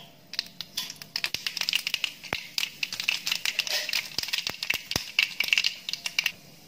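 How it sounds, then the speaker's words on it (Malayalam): Mustard seeds crackle and pop in hot oil for a Kerala-style beetroot pachadi, a dense, irregular run of sharp close pops with no talk. "കടുക് പൊട്ടി തുടങ്ങിയിട്ടുണ്ട്."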